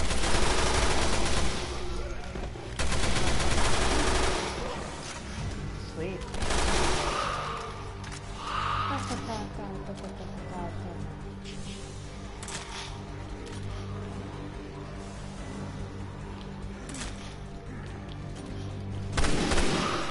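Rapid assault rifle fire in the Resident Evil Revelations 2 Raid Mode video game, loud bursts and sustained volleys of gunshots with explosive booms, game music and effects running throughout.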